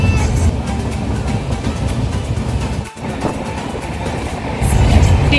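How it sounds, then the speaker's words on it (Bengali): Ranchi Express train moving through the Purulia countryside, heard from inside as a continuous loud rumble and rattle with rhythmic clatter, a brief dip midway, then swelling louder at the end. "ট্রেনটা ছুটে চলেইছে চলেইছে,"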